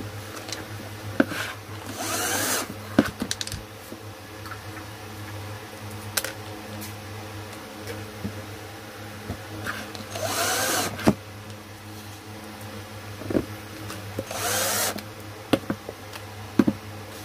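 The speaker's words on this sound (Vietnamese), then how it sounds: "bây giờ là cái này mình dẫn ốc lại nha anh em" A power drill drives screws into an LED bulb heating rig, sounding in short close bursts of whirring spaced several seconds apart, with small clicks and handling noises between them.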